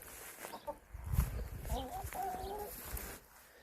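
Hens in a farmhouse chicken enclosure cluck softly and intermittently at close range, with a few short rhythmic calls in the middle amid low background rustle.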